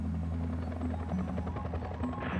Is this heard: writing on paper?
no